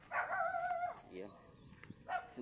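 A dog greeting visitors near rice paddies gives a few short barks and yips, close by, mixed with a person talking.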